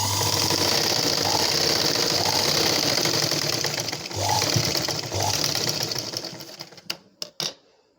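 A sewing machine stitches the straps of a blouse, running in a loud steady rapid whir for several seconds before slowing and stopping with a few final isolated clicks.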